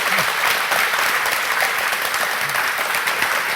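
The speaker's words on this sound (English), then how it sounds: "can we get a round of applause for David Wise and Grant Kirkhope?" A crowd applauding loudly, continuous dense clapping with a few faint voices mixed in.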